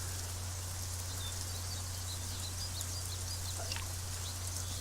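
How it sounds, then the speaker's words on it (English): Rain in the video game Craft The World makes a steady, even hiss with a low hum underneath and faint chirps scattered on top. "Rain!"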